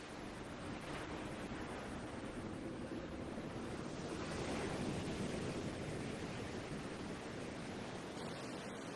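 Ocean waves rolling onto a beach, a steady broad wash of surf with wind noise across the microphone, continuous and fairly loud with no voices.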